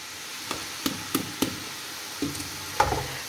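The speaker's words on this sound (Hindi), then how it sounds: "ऑयल गर्म हो चुका है, अब इसके अंदर प्याज डाल देते हैं" Chopped onions dropped into hot oil for an aloo matar chicken keema, a few sharp knocks and bursts as they land, then a low steady sizzle building up at close range.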